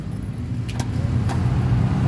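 An ignition key turns in a Suzuki Multicab, a couple of short metallic clicks over a low idle-like rumble inside the vehicle, fairly close and brief.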